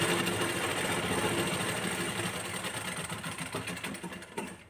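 Sewing machine running continuously while stitching a hook strip on a blouse, a steady close mechanical hum that eases off slightly near the end, with no talk over it.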